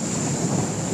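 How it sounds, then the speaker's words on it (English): Big waves on Lake Erie at Crystal Beach in a high wind roar continuously, with heavy surf wash and wind buffeting the microphone. "Big waves on Lake Erie."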